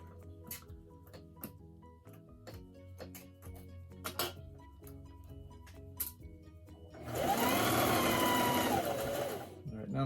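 A sewing machine runs steadily for about three seconds, stitching a continuous seam on a fabric mask hood, close and fairly loud after quiet handling noises and brief talk.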